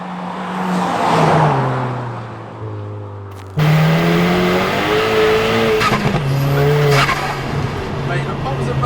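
A 450hp turbo VW Caddy van with an S3 engine swap revs hard through the gears, and its exhaust throws out sharp pops and bangs. Loud engine drone and crackles run throughout while people talk inside.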